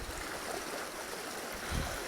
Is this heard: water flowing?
yes